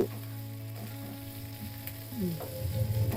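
Tomatoes frying in a pan with a soft, steady sizzle under a low kitchen hum. A few faint scrapes and stirring sounds come through, and the frying grows a little louder toward the end.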